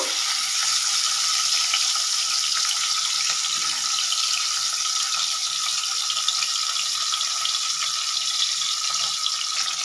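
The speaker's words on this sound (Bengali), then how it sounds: "যে নুন হলুদ মাখানো মাছগুলো কিন্তু আমরা ছেড়ে দিচ্ছি দুটো পিস ভালোভাবে ভেজে নেব" Tangra fish rubbed with salt and turmeric sizzle in hot oil, a steady, close, hissing crackle that carries on evenly throughout with no talking.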